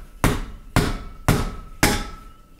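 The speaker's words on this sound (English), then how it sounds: "This is a 2-pound mallet from Harbor Freight Tools." A 2-pound mallet strikes a Master Vintner mini corker four times to drive a cork into a wine bottle. The blows are sharp and close, evenly spaced, and each thud rings out and decays briefly.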